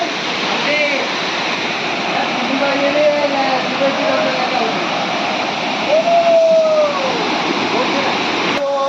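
Gadachandi waterfall pours with a loud, constant roar of falling water that fills the scene, close by, while a voice briefly rises and falls over it.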